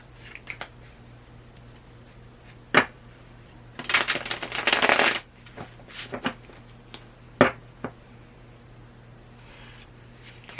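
Tarot cards being shuffled up close: scattered soft taps and snaps, then a dense riffling burst lasting about a second, followed by a few more light flicks.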